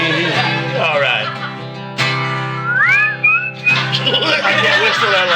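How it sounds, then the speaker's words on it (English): A person whistles a short rising, sliding tune at close range, rising through the middle of the stretch over steady background music and voices. "I can't whistle that long."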